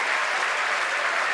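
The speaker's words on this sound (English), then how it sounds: "The crowd's going nuts here at SpaceX headquarters in Hawthorne." Crowd at SpaceX headquarters in Hawthorne cheering and applauding after a Falcon 9 first stage lands on the drone ship, a dense, steady roar of clapping and shouts throughout.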